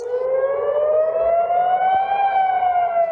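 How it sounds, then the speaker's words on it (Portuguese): Air raid sirens wail in Tel Aviv during a rocket attack, one loud, steady rising-and-falling civil defense tone that holds through the whole stretch with no voices over it. "Em Tel Aviv, as sirenes soaram inúmeras vezes por causa dos mísseis."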